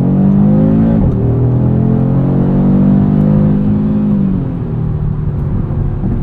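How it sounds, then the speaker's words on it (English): A 2022 Audi RS 3 engine revs hard under acceleration, a loud, steady drone climbing in pitch, then easing as the gear changes, and pulling on again. No one talks over it. "It is an engine that likes to rev out."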